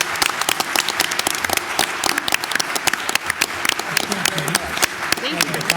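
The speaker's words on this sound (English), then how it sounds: "let's end the night with a big round of applause for our speakers" An auditorium audience applauds panel speakers at the close of an evening panel discussion, steady sharp clapping throughout with voices murmuring underneath.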